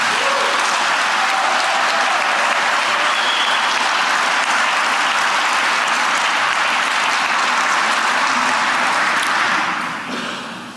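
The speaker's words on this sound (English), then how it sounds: "So how about a round of applause for them?" Loud, sustained applause from a crowd at a gala honoring healthcare professionals, held at a museum. The clapping stays dense and steady for about ten seconds, then begins to fade.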